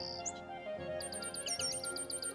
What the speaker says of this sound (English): Elizabeth, why are those confounded birds making such a din?